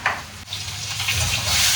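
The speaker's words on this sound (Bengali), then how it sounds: "এই যে সিম পেঁয়াজ আর লঙ্কা ভাজা" Flat beans, onion and chilli fry in a pan with a loud, close, continuous sizzle and hiss, brief stirring scrapes breaking through the crackle.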